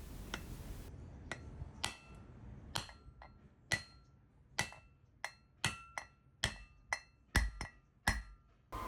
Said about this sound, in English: using the bearing race driver, smack it back into its location